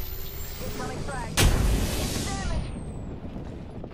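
A frag grenade bursts in a battle royale video game, one sudden loud broadband blast about midway that rumbles and fades over a couple of seconds, amid steady game background noise and faint voices.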